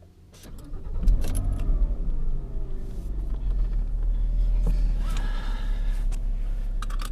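A Porsche Boxster's engine is started with a key on the left: jangling keys and a click, then a cranking catch into a deep close idle that settles to a steady rumble.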